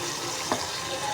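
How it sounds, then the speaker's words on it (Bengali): Fish being sautéed in a cooked-down spice masala gives a steady close sizzle with one brief stir scrape midway, no talk over it. "আমি মাছটা দিয়ে আরেকটু ভালো করে কষিয়ে নেব"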